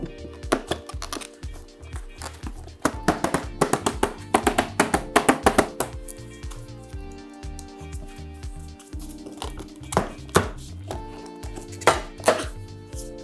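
Close metallic clatter of a Hyundai HHY 9050Si inverter generator's side casing panel being handled and pulled off, with irregular taps, knocks and rattles.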